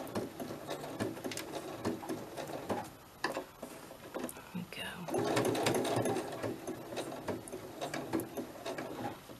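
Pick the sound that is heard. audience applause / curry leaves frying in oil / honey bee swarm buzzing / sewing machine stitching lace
sewing machine stitching lace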